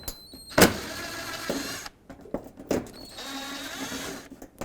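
A power tool removes a 7mm screw from the side of the front bumper of a 2005–2009 Chevy Equinox. There are short whirring bursts separated by pauses, close up, along with some handling clicks.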